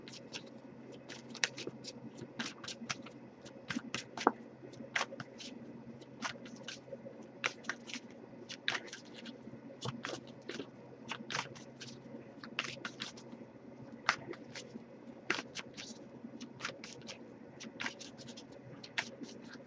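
Soft, irregular papery snaps and riffles of tarot cards being shuffled, repeating steadily over a quiet low hum, close and fairly faint, with no voices.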